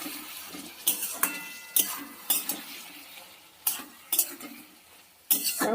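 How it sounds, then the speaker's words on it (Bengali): A utensil stirring ground chili into puti fish chachchari curry in a hot pan, scraping clinks and knocks at irregular intervals over a steady soft sizzle, close up with no talking. "বেটে নেওয়া লঙ্কাটা এবার দিয়ে দেবো এর প্রতি ভালো করে মিশিয়ে দেবো"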